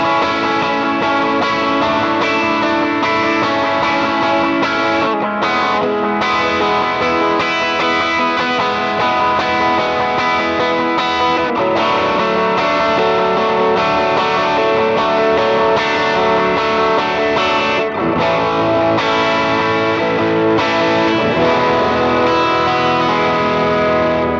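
Electric guitar played through a Hotone Ampero II Stomp preset with no reverb: a loud, continuous distorted worship-style part with chorus shimmer, sustained chords and riffs throughout, no voices.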